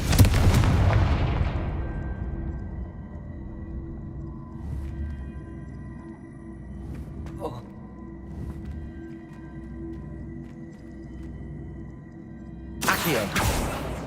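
A Confringo fire blast spell in Hogwarts Legacy erupts in a loud booming burst at the start that decays over a couple of seconds, followed by low rumbling ambience and another sharp blast near the end.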